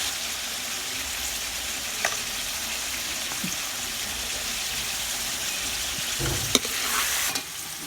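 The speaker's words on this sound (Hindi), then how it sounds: "अब चिकन को भी अच्छी तरह से फ्राई कर लेंगे" Chicken sizzles and crackles in a hot pan with garlic and ginger paste, a steady frying hiss with occasional scrapes and clinks of stirring.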